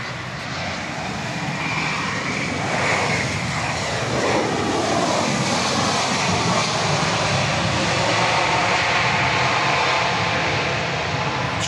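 A plane comes in to land at Dallas Love Field in Dallas, Texas after dark, its engines roaring steadily and loudly, swelling and fading over several seconds as it approaches from the south.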